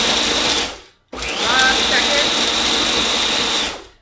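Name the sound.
blender grinding pistachios and crackers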